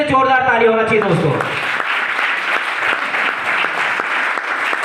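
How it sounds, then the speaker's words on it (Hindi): Loud audience applause for a trainer named Amit at a training session, continuous dense clapping filling the whole stretch after a brief moment of voice and music at the start. "हमारे अमित सर के लिए जोरदार ताली होना चाहिए दोस्तों।"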